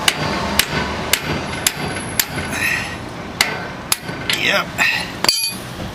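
Hammer blows driving a kingpin out of a 1926-1934 vehicle's steering knuckle, a steady series of sharp metallic strikes about every half second, close up, with a short spoken word partway through.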